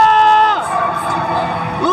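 Crowd cheering and whooping in the FPL Arena during an MPL ID Season 14 Mobile Legends esports match between RRQ and RBL, a loud sustained roar of voices that swells and stays dense throughout, with tonal arena music or effects over it.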